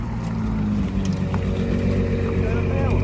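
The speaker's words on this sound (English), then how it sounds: "The Ferrari SP3 Daytona, ladies and gentlemen." A Ferrari SP3 Daytona supercar at the Heveningham concours gives off a steady low engine drone, close and continuous, while people talk over it.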